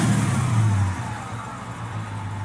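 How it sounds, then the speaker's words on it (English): A 1969 Pontiac Firebird convertible V8 with dual exhaust revs briefly, a deep throaty swell that drops back to a low idle rumble, moderately loud and close. "Rev it up a little bit, makes a little noise."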